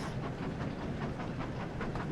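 A locomotive in a Thomas and Friends railway video game runs along its track, a steady rumbling roll with faint rhythmic clicks and a light hiss, continuous and moderately loud with no voices.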